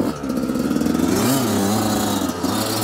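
An enduro motorcycle engine revs hard and close at full throttle, its buzzing pitch rising and wavering as the throttle is held open.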